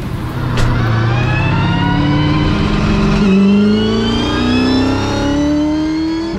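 A Triple Eight V8 Supercar on a race track accelerates down the back straight, its engine roaring loud and continuous with pitch climbing and dropping as it shifts up through the gears; no voices.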